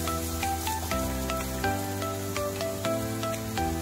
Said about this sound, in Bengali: লঙ্কা কুচি, হলুদ, নুন, একটু চিনি দিয়ে 2 মিনিটের জন্য ভেজে নেব।